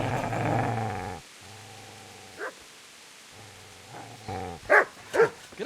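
A dog in Kingdom Come: Deliverance snarls with a long low growl, pauses, growls again, then fires off several sharp barks near the end.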